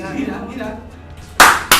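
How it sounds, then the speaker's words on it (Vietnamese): Two sharp, loud hand claps close by near the end, after a stretch of quieter murmuring, during a playful quiz game among programmers. "Vỗ tay, vỗ tay."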